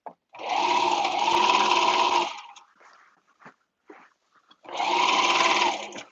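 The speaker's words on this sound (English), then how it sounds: "is to serge my seam that I've just sewn and get to the arm, the side seam." Serger overlocking the side seam of a caftan: two loud, close bursts of steady motor whine with a short gap of faint clicks and handling noises between them.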